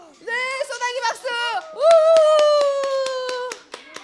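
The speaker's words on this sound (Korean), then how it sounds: "소나기 박수" Children in a church summer club burst into fast, rapid-fire clapping, a quick patter of sharp claps running for a couple of seconds beneath loud, drawn-out voices calling out.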